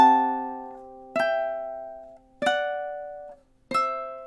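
Plucked ukulele playing measure 6 of a song, a line moving down in thirds: four clear, evenly spaced notes, each ringing out and fading before the next, close and alone.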